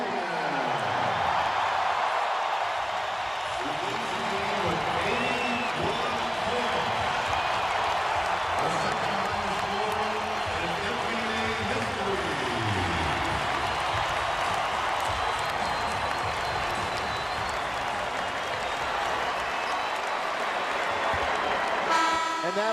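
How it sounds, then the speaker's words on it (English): A basketball arena crowd gives a long standing ovation for Kobe Bryant, number 8, in a game against the Raptors, a dense sustained roar of cheering and applause that stays loud throughout. "And listen to this crowd for number 8,"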